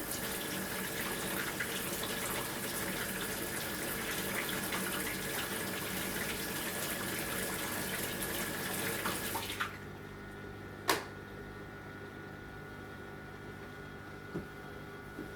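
Water running from a tap to fill an aquarium during a fish treatment: a steady rushing stream for about ten seconds that cuts off abruptly, followed by quiet with a sharp clunk and a faint later knock.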